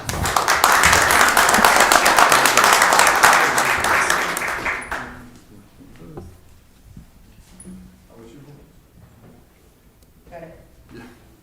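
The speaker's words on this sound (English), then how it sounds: "Round of applause for Councilor Scott." Audience applause at a city council meeting honoring a councilor: steady, loud clapping for about five seconds that quickly dies away, followed by quieter room sounds and talking.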